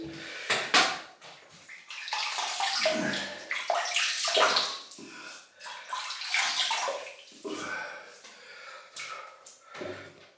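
Water runs and splashes as hands wet the face before a shave with a vintage 1972 Gillette Slim Twist razor, close, uneven sloshing and trickling with brief pauses.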